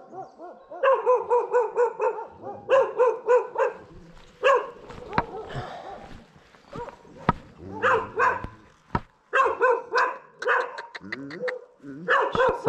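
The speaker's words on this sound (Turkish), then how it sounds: "Kocaman köpek var." A large Kangal dog barks in repeated bursts, deep and fairly close, with pauses between volleys and a few short voices in between, on the Lycian Way hiking trail.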